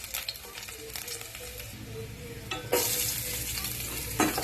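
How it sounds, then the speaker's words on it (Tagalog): Garlic and onion sizzle in hot oil in a pan (kawali) as they are stirred. The frying hiss grows louder partway through, with the scrape of a utensil on the pan. "Magigisa tayo ng bawang sibuyas."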